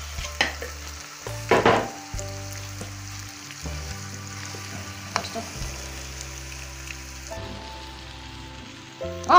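Courgette and peppers fry in a pan, a steady close sizzle broken by several louder bursts of crackling and scraping as the vegetables are stirred and tipped in, with low background hum beneath.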